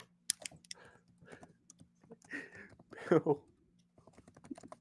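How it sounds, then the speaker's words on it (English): Rapid clicking of computer keys typed in short bursts during a sports podcast discussion, with people talking intermittently over the tapping. "What are you typing?"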